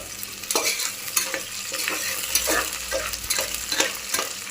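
Garlic frying with curry leaves in a pan for a bottle gourd and moong dal curry, a close continuous sizzle broken by rhythmic scraping stirs of a spoon, with no talking.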